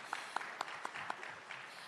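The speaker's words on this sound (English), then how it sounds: "give him a round of applause" An audience at a Jamaican national AI lab signing ceremony gives a short, sparse round of applause for a university president: a handful of distinct claps over quiet room tone.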